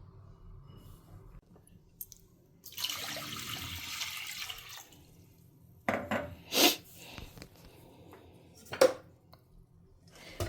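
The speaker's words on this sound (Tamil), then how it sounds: "நான் இப்போ பாசிப்பருப்பு அலம்பி எடுத்துன்னு வந்துடுறேன்." Moong dal being rinsed in a home kitchen: a short stream of tap water runs, then brief splashes and sloshing bursts with a clink of a vessel, separated by quiet gaps.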